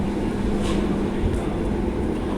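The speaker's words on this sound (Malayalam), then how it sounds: "നമ്മളെ ഫ്ലൈറ്റ് കുറച്ച് സ്പീഡ് കൂടിയിട്ടോ" An airliner speeds up along the runway for takeoff in Qatar, producing a loud, steady, broadband engine roar that stays constant across the short stretch.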